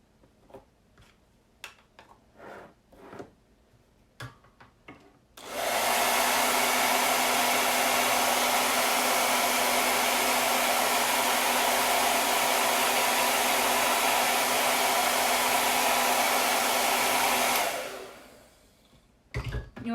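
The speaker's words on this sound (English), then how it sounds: "we'll hit that with a dryer too" A dryer blasts steadily at close range over a freshly screen-printed scarf, a loud continuous rush of air that starts abruptly after a few soft ticks and handling sounds, holds for about twelve seconds, then cuts off.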